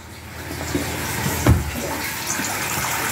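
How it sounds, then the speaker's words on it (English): Water runs into a toilet tank in a washroom as a steady, close hiss of filling water, with one brief thump about halfway through. "I'm running this water to fill up the tank."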